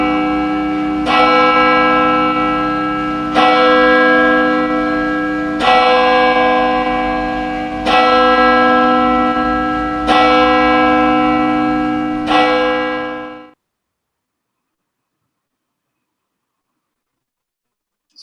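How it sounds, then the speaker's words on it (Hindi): A church bell rings out loud and clear at the start of a Sunday service, with six evenly spaced strokes, each ringing on before the next, then fading to silence. "चर्च की घंटी बजेगी"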